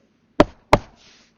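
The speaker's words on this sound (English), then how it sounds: "Little Red Riding Hood came joyfully to her granny's house and knocked on the door" Two sharp knocks on a wooden door, a storybook sound effect, spaced about a third of a second apart, close and crisp against silence.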